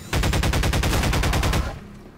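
Rapid, loud bursts of shotgun fire from an enemy in a Half-Life 2: Episode Two mod firefight, a dense string of blasts for about a second and a half that then cuts off to quiet.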